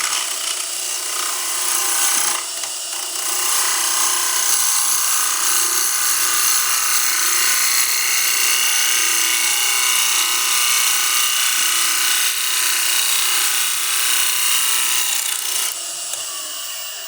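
Lathe gouge cutting a pine 2x4 bowl blank under very light pressure, a steady continuous hissing, scraping whir that runs loud and close for the whole stretch with only brief dips.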